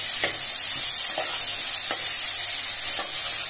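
Pumpkin and poi saag greens being stir-fried in a pan, a steady close sizzle with a few soft stirring scrapes across it, no voices.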